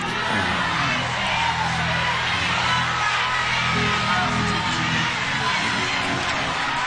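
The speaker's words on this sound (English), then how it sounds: "And they cheering." A church congregation cheers, with a continuous swell of crowd noise, scattered shouts and whoops, and voices mixed in at a steady, loud level.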